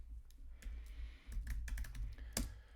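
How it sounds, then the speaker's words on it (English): Computer keyboard typing, close and quiet: a short irregular run of soft key clicks and taps with no speech. "I'll type it in."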